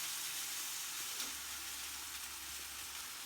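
Game meat sears lightly on each side in a frying pan, a steady broadband sizzle and hiss holding at an even level throughout with no talking.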